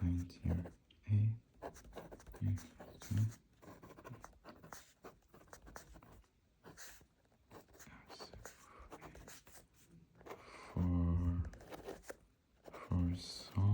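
Pen scratching across paper while writing out a discrete math homework answer by hand, a close, steady run of short scribbling strokes, with brief bursts of speech cutting in now and then.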